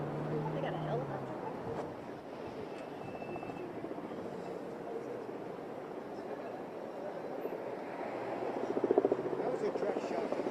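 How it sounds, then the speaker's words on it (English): A helicopter flies over a university campus event in Utah, its steady low rotor drone sitting beneath crowd noise and nearby talk for the whole stretch. "They got a helicopter."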